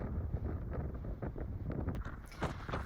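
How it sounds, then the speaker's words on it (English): Wind gusts buffet the microphone during severe gales on Fair Isle, a continuous rough rumble swelling and easing in waves, with faint rustling and knocks underneath and nobody speaking. "Can't really hear what I'm saying here because of the wind."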